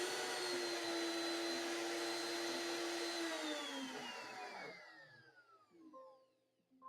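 A Genmitsu PROVerXL 2x2 CNC machine runs an accuracy test, a loud steady motor whine with tonal hum that holds, then glides downward in pitch and fades as the machine winds down.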